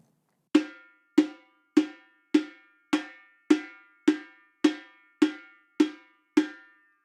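Open strokes on a samba repique drum, ten evenly spaced bright ringing hits with quick decay, played alone at a steady slow pulse.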